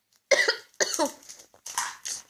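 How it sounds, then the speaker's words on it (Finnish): Several sharp, close coughs after eating sour candy powder, four or five harsh bursts in quick succession separated by brief pauses. "Noin nyt yskittää."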